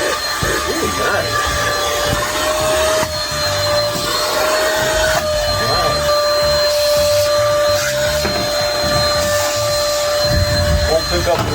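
A Mellif VC-DCB20 cordless vacuum running on a DeWalt battery drones with a steady motor whine close by, while someone talks over it throughout.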